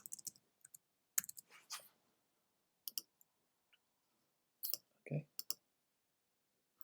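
Sharp computer mouse clicks come in scattered bursts, some quick doubles and some single taps, close and crisp against near silence while estimate line items are edited in sales software.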